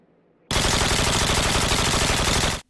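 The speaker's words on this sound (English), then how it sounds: "Sometimes games can have really annoying sounds when you fire a weapon like this." A ship-mounted weapon in the space game Elite: Dangerous fires as one continuous rapid burst of about two seconds, loud, harsh and buzzing, starting abruptly and heard alone.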